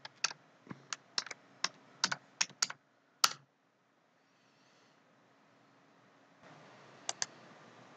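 Fingers type a password on a computer keyboard, a quick run of about a dozen sharp, close key clicks followed by silence, then two more taps near the end.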